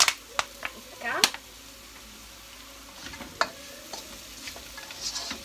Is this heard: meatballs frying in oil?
yes